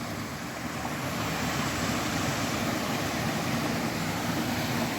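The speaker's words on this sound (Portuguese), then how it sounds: "Olha só, gente, como é que tá a cachoeira" A waterfall swollen with lots of flowing water gives a steady, loud rushing roar, continuous and even throughout, with no voices over it.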